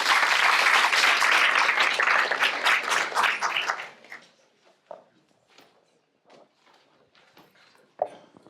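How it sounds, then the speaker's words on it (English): Audience applause at a startup demo day in an auditorium, a dense, loud round of clapping lasting about four seconds before fading into scattered claps and small room noises. "let's have a round of applause"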